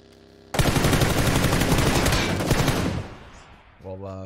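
A loud burst of automatic gunfire erupts in PUBG, a rapid, sustained stream of shots for about two and a half seconds that then tails off, followed by a voice.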